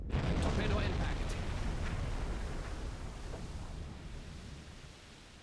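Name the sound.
torpedo hitting a ship, from the video game Silent Hunter 5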